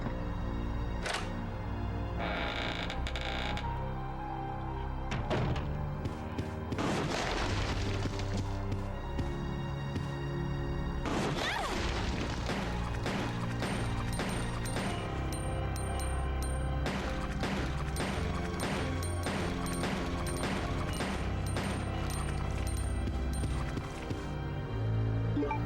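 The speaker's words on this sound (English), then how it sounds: "Let's use this weapon and just see how the enhanced pistol works." Enhanced pistol gunshots in Resident Evil Code Veronica X, a rapid run of sharp, loud shots firing one after another over a busy, continuous game mix of music and effects.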